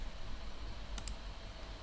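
A computer mouse gives two quick, soft clicks close together while someone works in Adobe software, faint over a low, steady room hum.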